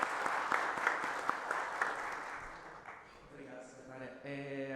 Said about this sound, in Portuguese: Vamos receber o Léo com uma salva de palmas